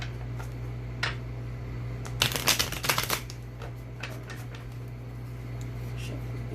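Tarot cards being shuffled in a quick riffle burst, close and crisp, surrounded by scattered light taps and a low steady hum.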